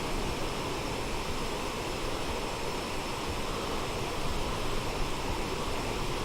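Steady, loud roar of a military jet engine in Microsoft Flight Simulator 2020, broadband and continuous for the whole stretch, with no talk over it.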